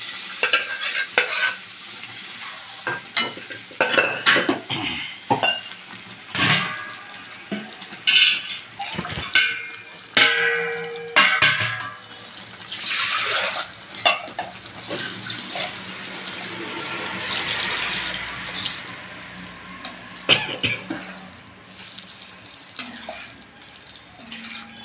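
Cooked lentils are poured into a hot tempering of chilli, tomato and cumin for sambar in a pan, followed by a spoon scraping and stirring with sizzling and liquid sloshing, close and steady, no talking.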